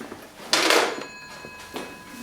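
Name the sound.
telephone ringing with no answer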